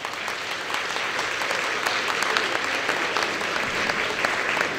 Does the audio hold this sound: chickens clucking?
no